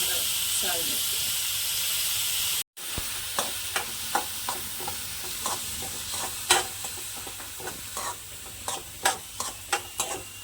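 Chopped onion sizzling in a hot pan at home, a loud steady hiss that cuts out briefly, then returns with repeated scraping stirs and clinks of a spoon against the pan.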